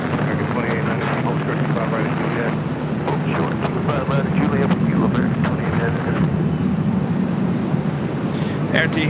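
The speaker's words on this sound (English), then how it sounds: "Air Tahiti Nui Flight 7 heading to Papeete. 787-9 Dreamliner heading up for a north side departure." A Boeing 787-9 Dreamliner of Air Tahiti Nui takes off from LAX, a steady loud jet roar with wind buffeting the microphone, continuous throughout.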